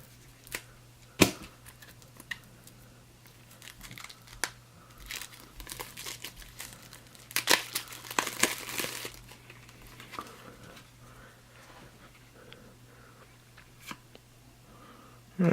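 Plastic wrap crinkling and tearing as packs of game cards are opened from a GMT Games Fort Sumter box, with close, intermittent rustles and a few sharp rips, busiest in the middle, in a quiet room.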